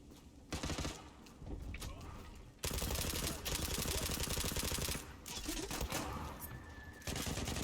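Rapid bursts of automatic gunfire in the online shooter game Zula, loud and dense, with a brief lull before sustained firing resumes in long sustained volleys.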